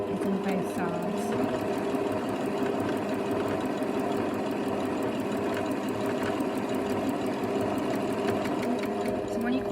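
A sewing machine stitches down fabric bunting flags in a continuous, fast mechanical hum and clatter that stays steady and close, with a voice speaking over it.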